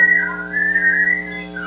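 A person whistles one clear, sustained note that wavers slightly in pitch for under two seconds. The whistle is close and loud, and no one talks.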